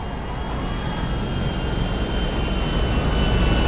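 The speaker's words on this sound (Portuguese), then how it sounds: "Avião, tá amassando um avião ali." Loud continuous roar of an airplane in GTA 5, a broad steady engine rumble with a faint whining tone that swells slightly as it goes on, with no talking over it.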